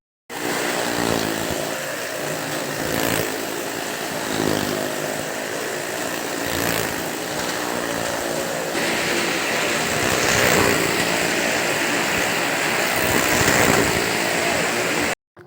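Engines of bikes and cars revving in a stunt show at a crowded fair, a continuous loud buzzing drone that swells and dips over several seconds.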